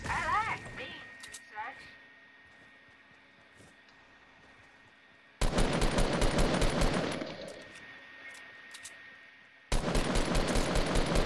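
Fortnite gunfire in loud, sustained automatic bursts, two long volleys in the second half, with players talking earlier in the clip.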